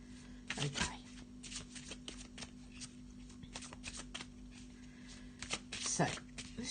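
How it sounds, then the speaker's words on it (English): A black-and-white Faulkner Tarot deck is shuffled by hand, making a quiet run of papery riffles and soft card slaps in irregular bursts. "A little shuffle of this Faulkner Tarot deck."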